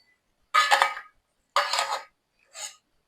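Three metal idli pots are handled in a kitchen, giving three separate clanks with ringing tails, the first two longer and fuller and the last short and lighter, close and clear against silence.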